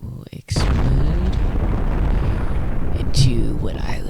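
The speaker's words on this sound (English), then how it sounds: "And then it will explode" An H-bomb rocket from a Garry's Mod addon detonates in the game, a sudden loud blast followed by a long rumbling roar that swells again near the end.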